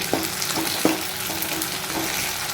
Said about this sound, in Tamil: இப்போ ஒரு கடாய் வச்சுட்டு கடுகு, சீரகம், வெந்தயம் போட்டுட்டு நல்லா பொரிஞ்சு பிறகு வெங்காயம் போட்டு நல்லா பொரிய விடணும்.